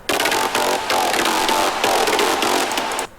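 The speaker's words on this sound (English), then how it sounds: "So layer number 2 is Big Saw Guy number 2." A Serum synth layer using the Big Saw Guy 2 patch for an electro house FM lead, heard alone: a dense, bright, buzzy saw tone played in loud sustained chords with short rhythmic breaks.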